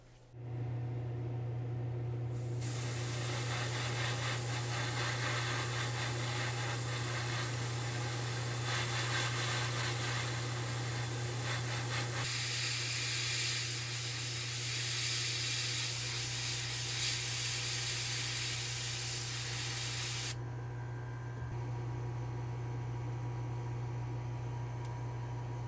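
Chrome spray paint hissing from a can onto toy car parts inside a spray booth, a long steady rushing spray over a constant low ventilation hum, with a pause and shift midway.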